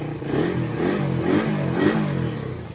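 A repaired motorcycle fitted with a racing CDI idles and revs in a shop, its engine rumbling loudly and close with several swelling throttle blips and a rattly mechanical clatter.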